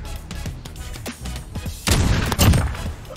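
Loud gunfire in Call of Duty Modern Warfare during a sniper-only one-on-one match, with two heavy booming bursts close together at the end after a stretch of scattered game noise.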